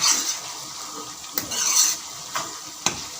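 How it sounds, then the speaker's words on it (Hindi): Keema being stirred in a pot with ginger-garlic paste and salt for Peshawari dum keema: a steady close sizzle with a few sharp scraping stir strokes spaced about a second apart. "इसमें हम लहसुन अदरक का पेस्ट डालेंगे और इसको मिक्स करेंगे"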